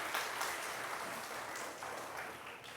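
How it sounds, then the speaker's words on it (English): Steady applause from a crowd fills the clip, a dense wash of clapping at moderate level without pauses. "Y'all give him a round of applause as he comes."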